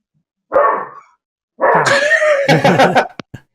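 A person's voice mimics a dog's bark, giving two barking yelps with a short pause between them, loud and close, followed by a couple of brief clicks.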